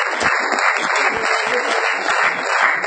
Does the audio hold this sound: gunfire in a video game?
no